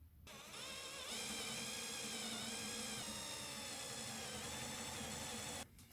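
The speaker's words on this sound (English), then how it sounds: "we need to drill a hole that's just a whisker wider than" A power drill runs steadily for several seconds, boring pilot holes for wood screws into an old A-frame timber ladder, fairly close and alone.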